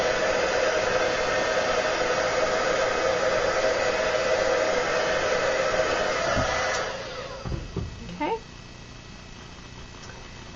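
A heat tool blows steadily over chipboard to set powder, a loud, even whooshing roar that cuts off about two-thirds through. A few faint knocks and handling sounds follow.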